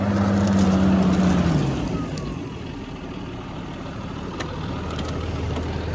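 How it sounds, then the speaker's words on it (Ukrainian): A tractor engine roars steadily outdoors in a field, its pitch dropping then holding as the wheels strain and spin in place. "Що цей трактор робить? А буксує."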